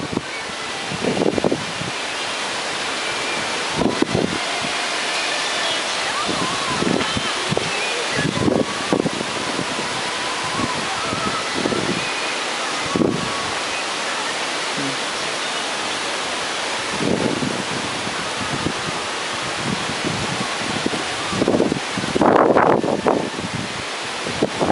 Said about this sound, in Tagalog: Karon hangin na lang.